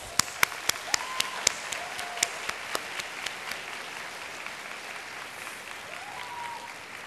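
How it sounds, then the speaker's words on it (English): Scattered clapping from a graduation ceremony audience that starts with several sharp claps, then settles into a steady, softer crowd applause. "Let us give a round of applause to express our gratitude to all of them."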